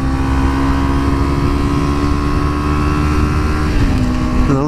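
Honda Grom and Ninja 300 motorcycles on a group ride along Angeles Crest Highway, engines droning steadily and loudly throughout with a shifting pitch near the end as they pass.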